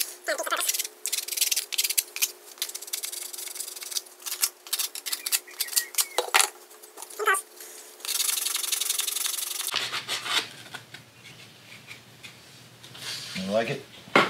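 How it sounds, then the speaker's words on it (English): A wooden part for a homemade static load tester is hand-sanded in short, uneven rubbing strokes, then a steadier scraping stretch, close by and fairly loud. "I'll probably sand that a little bit"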